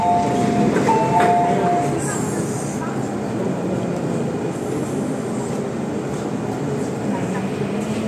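Hong Kong MTR subway train riding toward Quarry Bay, with a steady loud rumble of wheels and car noise and a brief high squeal early on; a recorded announcement and voices are heard faintly under the roar.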